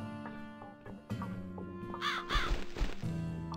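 A crow in the video game The Cat Lady gives a couple of raspy caws midway through, over a sustained, droning musical background.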